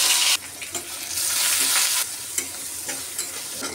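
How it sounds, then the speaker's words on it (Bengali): Fresh coriander leaves fry in hot oil in a pan, cooked right after onion, green chili and garlic. A loud, steady sizzle opens with a bright burst and then settles into a dense hiss broken by small crackling pops, with no talking. "এখন ধনিয়া পাতাগুলো ভেজে নেব।"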